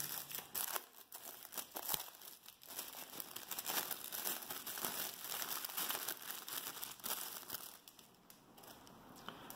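Stickerless puzzle cube packaging crinkles and crackles up close as it is handled and opened, with irregular bursts of soft plastic rustling and tearing.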